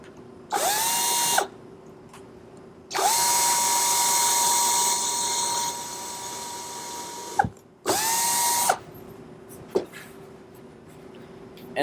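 A power drill drives screws into a wooden bumblebee house in three close, loud bursts, each whirring up to speed and stopping abruptly, with quiet pauses and small clicks between.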